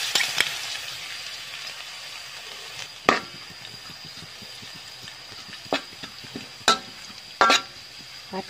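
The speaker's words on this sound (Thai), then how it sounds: "ผัดกระเทียมให้เหลืองหอมก่อนนะเจ้า" Chopped garlic fries in hot oil in a pan, giving a steady close sizzle punctuated by sharp clinks and scrapes of a utensil stirring against the metal.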